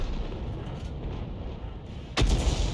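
A T20 tank's 90 mm gun firing in a tank video game, a single heavy boom near the end over a dense rumbling battle background.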